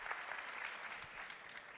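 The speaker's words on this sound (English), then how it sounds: "Let's have a round of applause for Liv Strömquist" Audience applause at a literary festival panel, a brief, fairly quiet burst of clapping heard from a distance.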